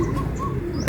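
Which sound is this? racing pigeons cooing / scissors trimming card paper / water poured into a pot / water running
racing pigeons cooing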